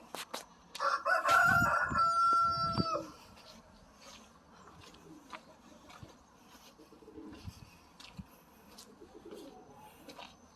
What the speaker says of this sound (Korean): 여기 닭이 한 마리 있어요